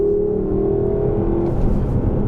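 A Lexus LC 500 convertible pulls out of a turn under light throttle, its engine note a steady, rising drone heard close up for about a second and a half before settling into a lower hum.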